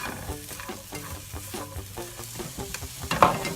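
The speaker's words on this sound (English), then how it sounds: "We're just going to kind of fry this up until it's kind of softened, basically." Vegetables and cilantro frying in a pan for white turkey chili, a dense close crackling sizzle with repeated scraping stir strokes, building to a louder scrape near the end, no voices.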